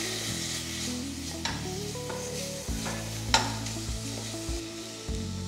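Onion masala with tomato sautéing in a pan, a continuous close sizzle broken by repeated scraping stirs and a sharper knock partway through, with no talking.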